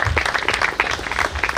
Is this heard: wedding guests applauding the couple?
yes